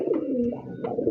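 A Rajgolla pigeon kept in a cage gives one soft, throaty coo up close, a brief rolling call with no talking over it.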